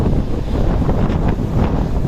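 Big sea waves crash around a boat near Cape Town, with strong wind buffeting the microphone in a loud, continuous roar and surging water swells, with no voices heard.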